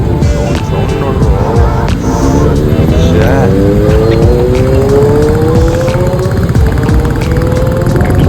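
A motorcycle engine revving loud and close, its pitch sliding up steadily as it accelerates over a dense rumbling roar, alongside other traffic noise.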